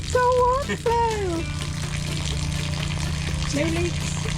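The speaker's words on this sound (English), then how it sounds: "We got water flow!" Water pushed by a campervan tank pump rushes steadily from the end of a pipe, running under excited voices at the start and a short voice near the end.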